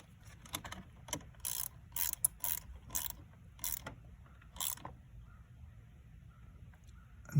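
A 1/4 inch drive ratchet wrench tightens a car battery terminal on a second-generation Ford Fusion, giving rapid clicking bursts in short strokes, close and crisp, then trailing off into quiet.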